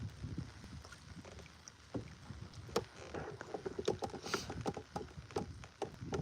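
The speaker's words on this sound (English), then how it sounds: "I am in a canoe being paddled by my dad in the back" Canoe paddled across a lake by a person seated in the stern, with irregular soft paddle strokes and water splashes close by over light wind noise.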